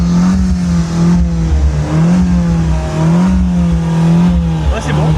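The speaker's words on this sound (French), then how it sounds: "le son de l'échappement pour voir" Fiat 500 Ferrari Dealers Edition exhaust revved repeatedly, a loud close engine note swelling and dropping in several blips with a rasping burble between them.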